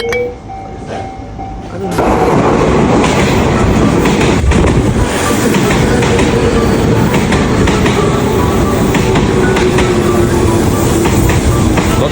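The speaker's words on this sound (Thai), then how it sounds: "กำลังรอรถไฟอยู่ตอนนี้" Train pulls into Kita-Ikebukuro station in Japan, starting with quiet platform ambience and a chime before a loud rushing roar and rumbling of carriages takes over and holds steady, with faint voices under it.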